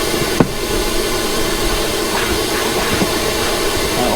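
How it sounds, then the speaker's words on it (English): A steam cleaner hisses steadily during mobile car valeting, a continuous broad rushing hiss that runs the whole time, with one small knock near the start. "with the added steam, it helps just kill off all the bacteria and leaves a nice shiny finish."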